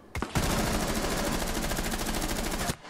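Automatic rifle fire in the video game Rainbow Six Siege, one long unbroken burst of rapid, evenly spaced shots lasting over two seconds, loud and close, with no voices over it.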